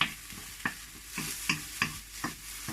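Minced garlic and onion fry together in a pan, stirred with quick regular scrapes that land about every half second over a continuous close hiss.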